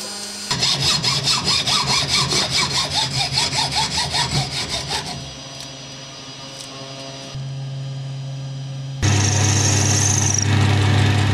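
A hand saw cuts through a 10 mm D16T aluminium rod in steady rhythmic strokes, close and loud, followed by a mechanical hum that changes pitch and grows louder.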